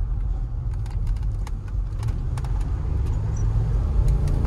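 A 2009 Range Rover Sport L320, naturally aspirated with air suspension, drives through a corner; a steady, loud low road and engine rumble fills the cabin with a few light rattles and clicks above it.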